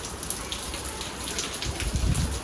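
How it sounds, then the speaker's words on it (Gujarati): Heavy rain pours down in a steady, dense wash of drops that stays constant throughout, with a few louder patters and low rumbling near the end. "જો વરસાદ આવે છે અત્યારે."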